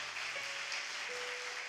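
A church congregation claps for a couple standing before them at a service, a steady, fairly faint wash of applause running the full length without a break.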